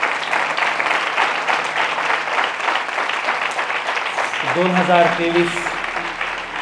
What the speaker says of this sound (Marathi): देवासाठी एकदा जोरदार टाळ्या वाजवा आपण.